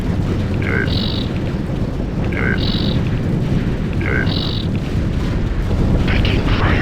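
Grazer strike in Ground Control 2 sets off a continuous, heavy rumble of explosions and battle noise, with three repeated short electronic beeps standing out on top.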